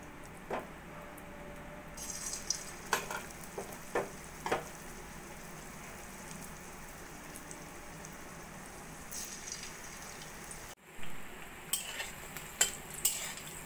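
Malabar spinach leaf fritters fry in a pan of oil with a soft, steady sizzle, broken by scattered clinks and scrapes of a utensil turning them.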